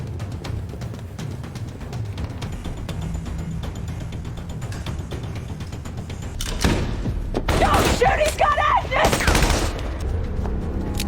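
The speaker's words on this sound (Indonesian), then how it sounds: "Sebenarnya Keen telah memintanya untuk berhenti menembak, tetapi semua sudah terlambat" Gunfire in a tense armed confrontation from the crime drama The Blacklist, muffled shots and thuds under a dialogue and score mix, rising to a louder burst of fusillade in the latter half.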